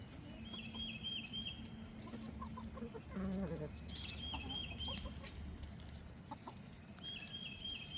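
Backyard chickens cluck steadily while pecking at drone brood comb cut from a beehive, the hens' murmuring calls close and continuous alongside scattered higher chirps.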